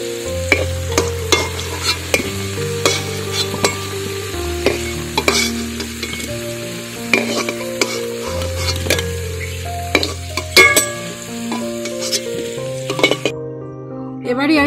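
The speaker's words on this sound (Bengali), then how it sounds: "বন্ধুরা, আলুগুলো কিন্তু আমার ভাজা হয়ে গেছে।" Potatoes fry in hot oil for a shahi chicken recipe, a steady close sizzle with repeated stirring scrapes and light utensil clinks throughout, with no talking.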